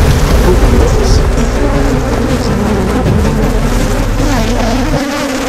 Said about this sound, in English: I was about to be surrounded by millions of stinging bees